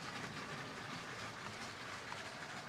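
A LEGO City toy train runs through tunnels beneath a raised platform, giving a steady, continuous rumbling clatter of wheels on plastic track that stays even and fairly close throughout, with no voices.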